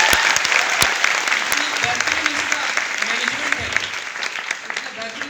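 Audience at a Smart Value company training event applauds loudly, sustained hand clapping filling the room for several seconds with no talk over it.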